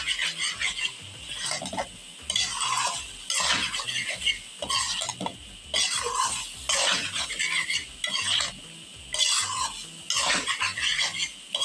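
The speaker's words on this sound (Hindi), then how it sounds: "अब हम इसको एक दफ़ा मिक्स करेंगे हल्के हाथ से।" Okra, onion and minced meat are turned over in a pan with a spoon, giving rhythmic rounds of scraping stir strokes over a continuous loud sizzle, close up, with no voices.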